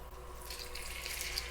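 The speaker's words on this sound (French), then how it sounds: "on éteint le feu, on vient déglacer avec notre bouillon." Broth poured into a hot paella pan with shrimp, off the heat, gives a steady, close hiss and splash of liquid that builds slightly over a short moment, with no talking.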